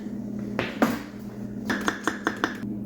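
A small hammer taps engine caps into the cylinder head of a 2012 Volvo S60: a heavier strike followed by a quick series of five or six light, sharp metallic taps, close up, with a low steady hum beneath.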